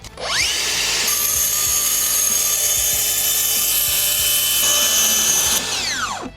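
A Makita SP001G cordless plunge saw cuts a straight line through 15 mm OSB board on a 4 mm guide rail, set to 19 mm depth: a loud, steady high whine that spins up, holds for several seconds, then winds down.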